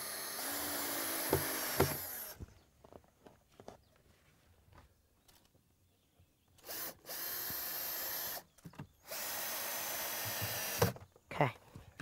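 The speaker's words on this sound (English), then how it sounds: "take a couple of wood screws and just screw into the leg and right into the base" A power drill drives wood screws through a wooden leg into a base, with several loud whirring bursts separated by quiet handling and shuffling sounds, close by.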